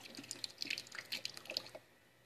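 Faint water dripping and trickling as an appliance drains out during cleaning, with a quick run of small close drips that thins out and stops near the end.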